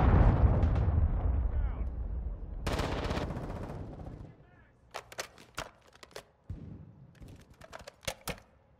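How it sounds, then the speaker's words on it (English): A cruise missile strike in a Call of Duty multiplayer match: a heavy, loud explosion rumbles and fades at the start, then a burst of noise follows, and scattered sharp gunshots crack over quieter game sounds. "Hostile cruise missile incoming."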